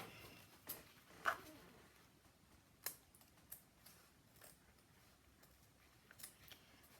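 Scissors snip through ribbon at a crafting table, with a few faint, sparse clicks and snips in quiet surroundings.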